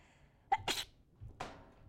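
A person sneezes once, sharp and close, followed by a shorter second burst in an otherwise quiet room.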